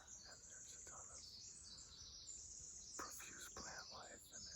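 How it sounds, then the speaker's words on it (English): Birdsong in a forest beside a small stream, faint high chirps and calls running steadily through the whole stretch over a soft, constant wash of background noise, with a few louder call bursts near the end. "There's a ton of birds everywhere"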